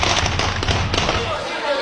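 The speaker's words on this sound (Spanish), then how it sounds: "se incrementa el intercambio de disparos" An exchange of gunfire during street combat, with an armored vehicle approaching and a pickup truck burning: repeated sharp, loud cracks and bangs over a dense, noisy background.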